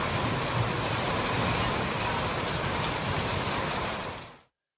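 Heavy storm rain pours in a dense, steady hiss of water for about four seconds, then cuts off abruptly.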